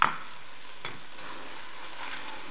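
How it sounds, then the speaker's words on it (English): Potatoes being stirred in a Ninja Foodi pot as they fry, a soft sizzle with a couple of scraping stir strokes, faint and close with no talking. "Another stir."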